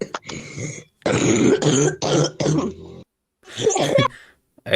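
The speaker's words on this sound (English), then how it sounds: "that crunchy cough ain't nothing to play with" Several harsh, rattly coughs and throat-clearing bursts in quick succession, close and loud, separated by short pauses.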